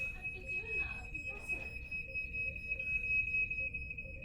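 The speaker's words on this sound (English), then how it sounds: "going to be used to deactivate the fire alarm" A fire alarm sounds a thin, steady high-pitched tone throughout, fairly faint over low background rumble, with a voice briefly heard early on.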